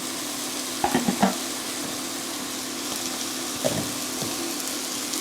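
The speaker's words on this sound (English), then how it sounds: "Then we add the garlic and green onions." Garlic and green onions fry with celery in a pan, a steady soft sizzle broken by a few clinks and scrapes of stirring, near and moderately loud, with no talking.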